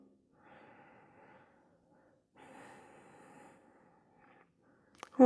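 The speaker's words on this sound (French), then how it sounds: "On reste aussi 8 cycles de respiration Ujjayi." Ujjayi yoga breathing during a gentle seated chair yoga session, two long, slow, softly hissing breaths drawn through a narrowed throat, quiet and close, followed by a brief sharper sound at the end.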